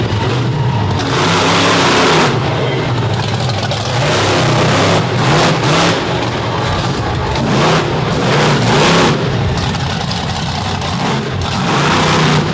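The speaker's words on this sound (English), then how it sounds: "The motor will load up and then lean out." Brad Shippert's truck engine at a pulling event roars loudly and continuously, surging and dropping as the motor loads up and leans out, flames shooting from the headers, with an uneven, inconsistent burn.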